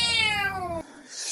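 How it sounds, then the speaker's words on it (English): A cat in a horror film scene lets out one drawn, falling meow, clear and near, cut off sharply and followed by a faint hiss of background sound. "Stupid cats!"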